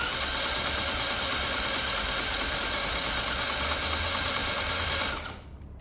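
Peugeot Tweet carburettor scooter turning over on its starter motor during a start-up attempt, a fast, steady whirring crank held for about five seconds before it cuts off abruptly.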